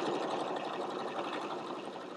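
A sewing machine stitches quilting lines on a fabric basket, running in a steady, even mechanical whir at moderate volume for a couple of seconds.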